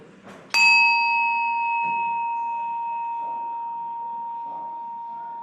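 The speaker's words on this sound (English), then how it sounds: "Here's three chimes." A single meditation chime strikes sharply and rings out with a long, clear, sustained tone that slowly fades under faint background murmur; only one strike is evident rather than three.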